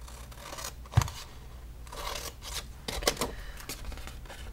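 Scissors trimming a paper corner for a craft jam jar bag, a few close, brief snips and crisp cuts with a sharp click near the start, alone without talk.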